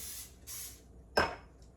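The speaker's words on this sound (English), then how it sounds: "I'm going to get a little spray here again" Short bursts of cooking spray hissing onto a pan with chicken, two soft sprays followed by a sharper, louder one, close up and with no talk.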